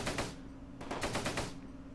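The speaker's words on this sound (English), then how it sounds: "And that fucking gun is still shooting at us." Rapid bursts of gunfire from a turret in the Close Combat: Gateway to Caen war game, loud and near, with a short burst followed by a longer chattering volley.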